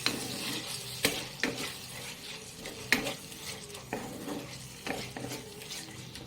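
Prawns frying with ground spice paste in a pan, a steady sizzle punctuated by repeated clattering scrapes of a spoon stirring against the metal at irregular intervals, fairly close and moderately quiet.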